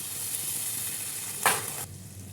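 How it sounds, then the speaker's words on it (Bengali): Spice paste with a little sugar frying in a pan for potol dorma, a steady close sizzle with one brief louder stirring scrape before the sound drops to a softer hiss. "মশলাটা কষানো হচ্ছে।"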